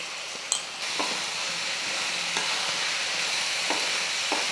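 Country chicken coated in masala being stirred in a pan for a Tamil-style fry, a steady sizzle broken by occasional scrapes and clinks of the spoon, with no voices.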